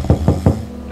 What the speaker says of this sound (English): Knocking on my door at this time.